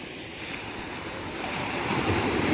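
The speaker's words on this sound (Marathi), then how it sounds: "कसा एकदम मधला मोकळा समुद्र आहे ना, त्यामुळे डायरेक्ट येतात खळखळ करत" Sea waves surging onto an open beach at Malvan on the Sindhudurg coast, a continuous broad wash of surf that grows louder toward the end, with wind on the microphone and no talk.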